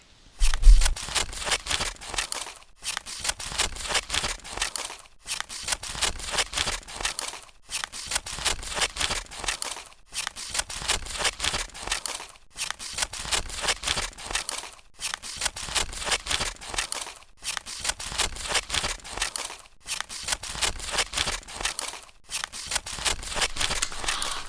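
Scissors snip through striped fabric in a steady, even rhythm, each long cut sounding as a bright crisp crunch followed by a short pause, close and clear for the whole stretch with no talk.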